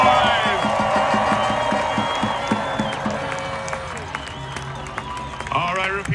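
A large street protest march crowd cheers, claps and whoops continuously, loud and dense, with voices shouting through the roar.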